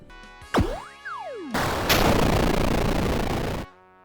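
Units firing in the strategy game Epicinium: a couple of sharp shots with swooping tonal sweeps, then a loud, dense burst of gunfire and explosions that holds for about two seconds before cutting off.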